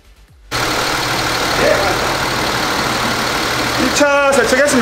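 A Hyundai Veracruz car engine idles with a steady, loud mechanical drone after starting up. Other noises join near the end.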